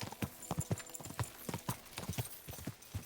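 Horse hooves clip-clop in a quick, steady gallop rhythm in the medieval video game Kingdom Come: Deliverance II, close and clear with no talk over them.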